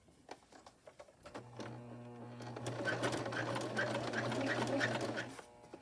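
A sewing machine stitching a denim mini skirt for an 18-inch doll, whirring steadily at close range for several seconds after a few soft clicks, then slowing to a stop.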